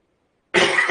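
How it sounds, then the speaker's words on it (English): A single short, sharp human cough bursts out after a moment of silence, close and fairly loud. "that was just a regular cough"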